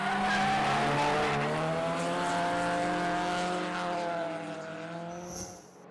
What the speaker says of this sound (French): Benjamin Boulbès sur la BMW E30 GT Radial, pourchassé par une autre 30, pilotée par Nicolas Dufour